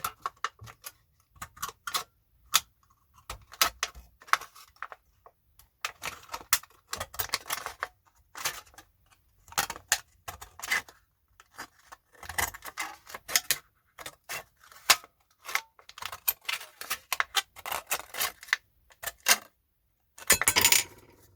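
Repeated crisp snipping of scissors cutting through material during a camper van repair, short bursts in an irregular rhythm with brief pauses between, close and fairly clear.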